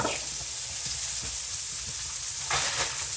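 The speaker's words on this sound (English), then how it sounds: "Now I'm gonna pour some white wine onto the pans, so to pick that stuff up." White wine poured into a hot pan sizzles and hisses steadily, with bursts of louder crackling as liquid hits the pan, close and alone without talk.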